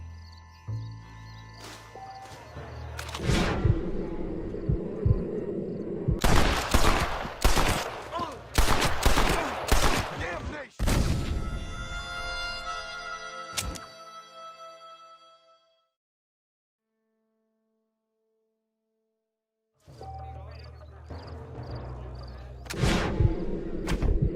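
Bursts of gunfire from a Red Dead Redemption shootout: repeated loud shots crackle through the first eleven seconds, a final shot rings out, then a few seconds of near silence before more shots return at the end.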